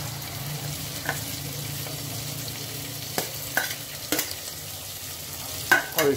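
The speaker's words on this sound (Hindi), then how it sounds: "धीरे धीरे सारे सब्जी डालेंगे। जितने भी सब्जी है इनको डालेंगे" Vegetables for dalia frying in a pan, a steady low sizzle with occasional sharp clinks and scrapes of a stirring spoon, heard alone without voices.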